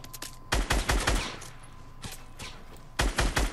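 Close gunfire bursts from a sniper fight in the video game Fortnite, with a cluster of sharp shots at the start, a lone crack midway and another rapid volley at the end.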